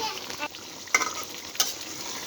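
Chicken bhuna being stirred in a pan after roasted cumin powder goes in: a quiet sizzle with two sharp spoon scrapes against the metal.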